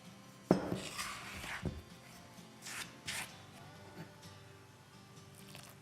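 A spoon scrapes and knocks around a bowl while pizza dough ingredients are stirred together, a sharp knock at the start followed by scattered rubbing strokes and softer bumps, close and fairly quiet.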